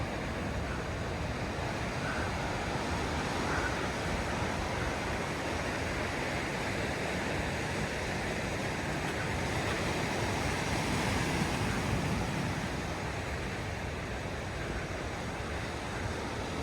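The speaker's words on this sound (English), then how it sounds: "I'm heading up towards the left-hander surf break." Steady ocean surf rolls and breaks continuously at a left-hand surf break on a rugged coastal walking track, a broad wash of waves mixed with some wind noise on the microphone, with no voices.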